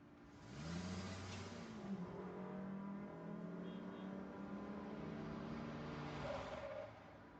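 A car pulls away on a rainy night, its engine rising in pitch as it accelerates, a smooth continuous whir and rev that swells, holds and then eases off over several seconds.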